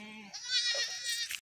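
A tall goat with kids at a farm gives a clear, near bleat lasting about a second, wavering and nasal, with no talk over it.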